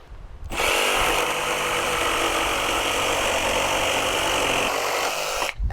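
A Milwaukee M12 barrel grip jigsaw cuts through a piece of wood at orbital setting 4, giving a loud, steady, sustained buzzing drone for about five seconds before stopping abruptly.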